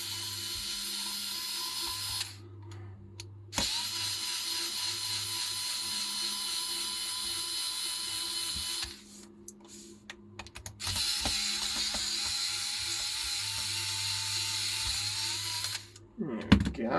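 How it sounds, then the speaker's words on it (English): An inexpensive AliExpress electric screwdriver removes screws from a 48V e-bike battery pack, giving several whirring bursts of a few seconds each with short pauses between and small clicks and handling noises, heard up close. "It's my surprisingly not awful AliExpress screwdriver."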